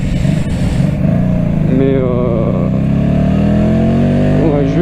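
A Honda Shadow VT125 motorcycle engine runs close by while the bike is moved, with a steady rumbling idle and a rising throaty pitch as it revs. Someone speaks over it.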